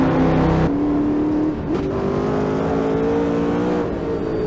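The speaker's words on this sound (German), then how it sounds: "7 Liter V8 Motorchen hier drin. Das dürfte ein LS7 sein aus der Corvette." A 7-litre LS7 V8 in a car in Automobilista 2 revs loudly and steadily, its deep engine note climbing in pitch with a brief dip partway through before holding high again, with no talk over it.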